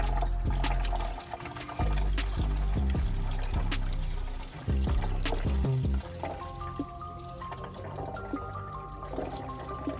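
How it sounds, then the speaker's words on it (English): Liquid poured through a funnel into an empty bottle during intercooler work on an Audi TT, with loud glugging bursts and splashes, then a lighter trickle as the bottle fills, close by and without speech. "You can see the bottle filling up."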